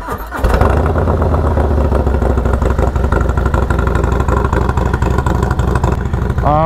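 A Harley motorcycle fitted with a windshield rumbles close by with a steady, loud, pulsing engine note, starting up abruptly and then holding an even, throbbing run with no talking.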